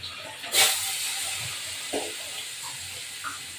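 Green chilies and vegetables sizzling as they hit hot oil in a pan for Bengali rohu fish curry: a steady, fairly loud hiss that swells at the start, with a few small pops and crackles.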